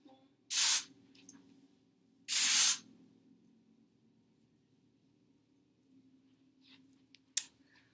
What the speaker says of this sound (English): I'm going to take my Texture Takeover Spray and I'm just going to work it through all of it